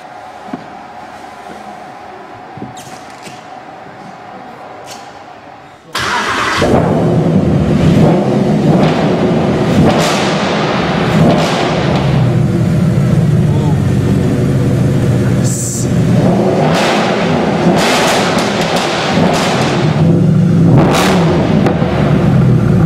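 A Mercedes-AMG GT3 engine at Affalterbach fires up abruptly after a quiet start, then settles into a loud, close idle broken by several sharp revs that rise and fall.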